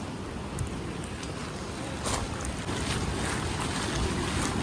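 A rough monsoon sea surges below a Goa fort, with a steady broadband roar of waves and surf mixed with gusting wind buffeting the microphone.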